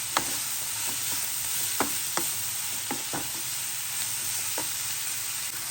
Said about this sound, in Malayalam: ഗരം മസാല നല്ലോണം മിക്സാക്കി കൊടുക്കുക